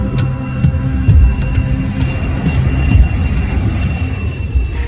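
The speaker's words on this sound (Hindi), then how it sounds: "विमान 8000 किलोमीटर से भी ज्यादा लंबी उड़ान भरते हुए भारत के लिए निकल पड़ा" A jet airplane on a long-haul flight of more than 8000 kilometres gives a loud, steady, low engine roar that fills the whole stretch without letting up, with no speech over it.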